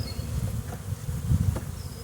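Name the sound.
honey bees buzzing around a nuc box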